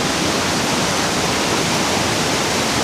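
Pistyll Rhaeadr Waterfall roars as a loud, continuous broadband rush of falling water, steady and close with no breaks or voices.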